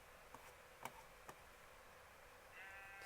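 Sheep bleating in Minecraft, a few short game bleats spaced apart over a quiet ambient background, no talking.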